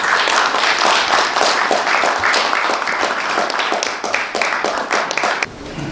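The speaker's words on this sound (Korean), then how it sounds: "큰 박수로 환영해 주십시오" A crowd at a Korean political party founding convention gives a big welcoming round of applause, loud dense clapping that runs steadily for several seconds before dropping off abruptly at the end.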